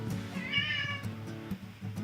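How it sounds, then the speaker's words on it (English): A pet cat meows at home, a drawn-out, fairly close call rising in the middle of a short stretch, with a steady low hum underneath and no talking. "Just a cat."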